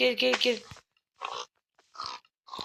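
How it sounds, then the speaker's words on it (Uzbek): A voice speaks briefly, then three short pig grunts come in evenly spaced bursts with silence between them, sounding like game effects. "Cho'chqani o'zib tashlaymiz."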